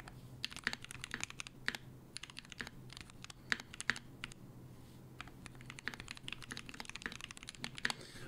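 Someone types on a custom Bacca60 mechanical keyboard, with a fast, irregular stream of crisp key clacks and a few louder strikes. The sound is close and moderately quiet, with no talk.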